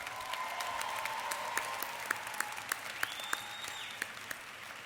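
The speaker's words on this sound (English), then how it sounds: "I do want you to join me in giving another round of applause to our speaker," An audience at the Morgan State University December 2016 commencement applauds the speaker Roland Martin: a steady, fairly distant wash of clapping with a few sharper individual claps standing out, and no talk over it.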